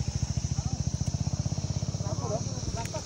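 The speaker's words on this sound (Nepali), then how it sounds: "त्यो प्योर एक्जस्ट साउन्ड मैले सुन्नु लागि चाहिँ मैले त्यो माइक पछाडि राखेको थिएँ" A motorcycle exhaust, recorded with the mic placed near the rear, throbs in a steady, rapid low pulse at idle, close and continuous throughout, with a faint voice briefly heard near the end.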